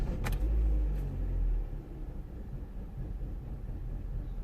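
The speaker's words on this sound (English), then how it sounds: "So we're gonna start the engine and I will show you exactly what it does." The 1.4-litre Z14XEP engine of a Vauxhall Corsa D, suspected of misfiring, cranks and catches with a loud low burst, then settles into a steady, close idle rumble.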